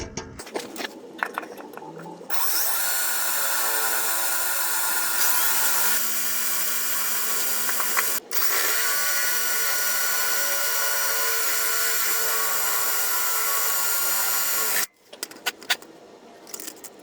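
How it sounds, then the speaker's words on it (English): A power drill whines loudly and steadily for about twelve seconds with a brief pause, grinding into a Toyota Prius's steel while a catalytic converter shield is installed, surrounded by clanks and handling noises. "Now we use this to drill the remaining 2 holes."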